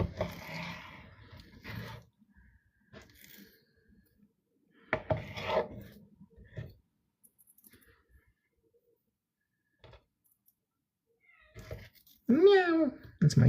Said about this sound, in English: That's my cat in the background just crying.